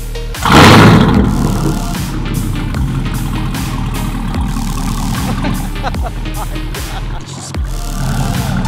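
A Chevrolet Camaro ZL1's loud engine roars into life with a sharp burst, then settles into a rough, rumbling idle that goes on steadily up close.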